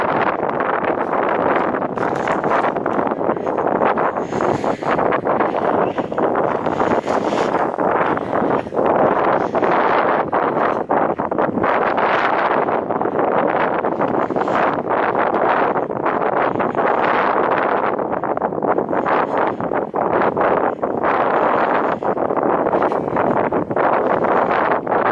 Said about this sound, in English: I won't do a lot of talking because it's going to be very, very windy.